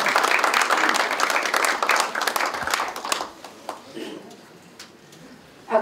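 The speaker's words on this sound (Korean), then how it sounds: "박수를 한번 하시죠." Audience applause at a Democratic Party supreme council meeting in Incheon, a dense burst of clapping that carries for about three seconds and then thins into scattered claps and murmuring room noise.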